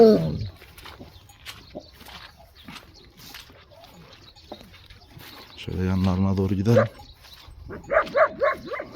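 Kangal dogs give short whimpering cries and yelping barks in a couple of bursts, close by, while someone talks over much of the scene outdoors.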